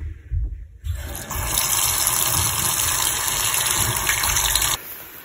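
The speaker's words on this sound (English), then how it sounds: "we just go to the faucet and turn it on" Water gushes steadily from a turned-on faucet, starting after a short handling clatter, running loud and close for about four seconds, then cutting off abruptly.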